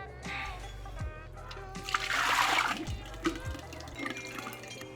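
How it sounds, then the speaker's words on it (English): Ceramic slip poured into a plaster mold, heard as close, irregular drips and splashes with a thicker gurgling pour swelling in the middle, plus a few knocks, quiet and without talk. "I poured it into the mold."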